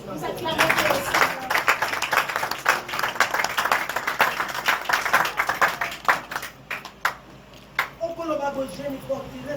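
A church congregation at a Sunday worship service applauds, sustained dense clapping filling the room for several seconds, with a voice speaking and calling out over it before the clapping thins toward the end.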